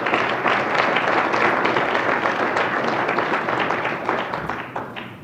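A roomful of people applauding an award runner-up city at a civic recognition event, dense sustained clapping that holds steady then thins and tapers toward the end.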